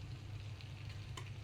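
Eel pieces sizzle steadily in a frying pan, with a constant close crackle and hiss and one brief clink near the end.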